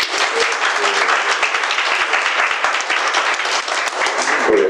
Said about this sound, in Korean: 우리 박수 한번 넣어주세요.